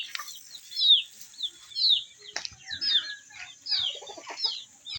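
Backyard chickens kept alongside goats and ducks cluck and chirp in short, bright bursts, several birds calling one after another at close range with quiet gaps between calls and no talk.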